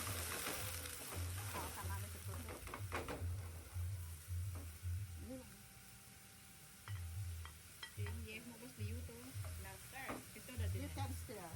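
Vegetables sizzle and fry in a pan at a cooking class in Bali while a spoon stirs them in a steady scraping rhythm, with a constant hiss and some background voices.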